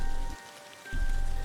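Steady rain pattering on a surface, a soft continuous hiss that briefly dips quieter midway before returning at the same level, with no voices.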